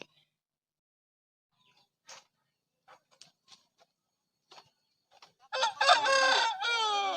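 A rooster crows loudly near the end, with an earlier sequence of faint, scattered clucks and scuffs from chickens being readied for a fight.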